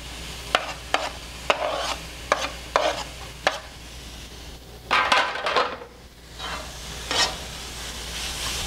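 Beef and caramelized onions cooking on a griddle over high heat for Philly cheesesteaks, a low steady sizzle punctuated by repeated sharp metal spatula taps and scrapes, then a burst of louder frying, close and with no voices.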